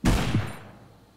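A single loud gunshot in a video game cracks sharply up close, then dies away in a short fading tail.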